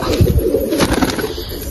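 Coimbatore and Kashmiri pigeons coo in a loft, a close, loud, continuous low throaty cooing with no talking.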